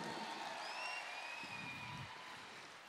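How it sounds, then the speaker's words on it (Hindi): An audience at a celebration gives a loud round of applause for a mother figure, a continuous, fairly distant crowd clapping mixed with a faint whistle-like tone and some crowd murmur. "एक बार जोरदार ताली हमारी माँ के लिए"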